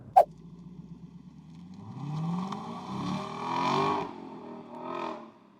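A 2023 Lexus LC500 accelerates hard, its engine rising through gears with a strong climbing roar after a sharp click, heard from inside the car without talk.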